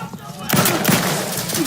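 Gunfire in The Outer Worlds 2 breaks out after a brief quieter lead-in, turning into a loud, close burst of rapid shots that continues to the end.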